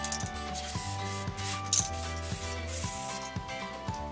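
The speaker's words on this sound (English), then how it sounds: "I'm going to use some clear spray adhesive and some iridescent artificial snow" A quiet, hissing aerosol can of clear spray adhesive runs in several short bursts, with faint rustling and handling noise in between.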